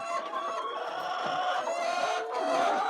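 Layer hens on a poultry farm cluck and squawk continuously, many overlapping calls from a flock at moderate distance, with no talking.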